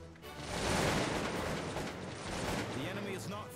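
Musket volleys and scattered gunfire rattle through a battle in the strategy game Cossacks 2, a dense crackling burst of shots lasting a few seconds at moderate level.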